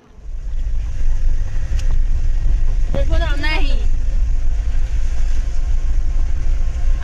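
Steady low rumble and clatter inside a moving passenger train, loud and continuous throughout, with a brief burst of voices partway through.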